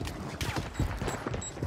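Rapid bursts of gunfire in a Warzone match, a quick run of sharp cracks over about two seconds with a faint voice underneath.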